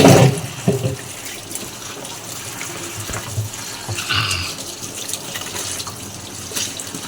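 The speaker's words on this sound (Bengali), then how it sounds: "আমার লঙ্কাগুলো ভালো করে ধুয়ে নেব" Tap water running steadily over green chillies being washed by hand, a continuous close splashing rush with occasional knocks and a louder clatter at the start.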